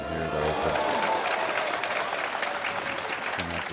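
A pool hall crowd in Hanoi at a semi-final match applauds a difficult shot, a sustained burst of clapping that fills the room, with a commentator's voice talking faintly at the start and end.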